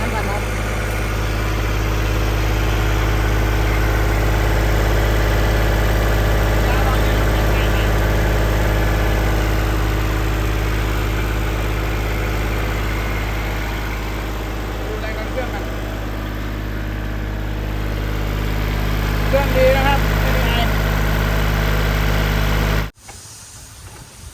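A Kubota L4018 tractor engine runs at a steady, smooth idle, a constant low rumble with a faint hiss that holds evenly for a long stretch before cutting off abruptly near the end.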